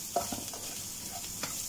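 Leftover rice being fried into sinangag in a pan: a soft, steady sizzle with a few brief stirring scrapes near the start and end, close and fairly quiet, with no talking.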